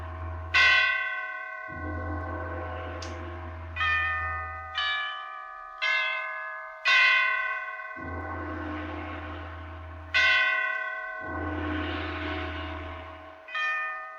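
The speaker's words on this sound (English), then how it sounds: "the great bells of St. Petersburg tolled their requiem" Great church bells of St. Petersburg tolling for a requiem in a radio drama, a series of loud, ringing strikes at a slow, irregular pace, each decaying with a long hum.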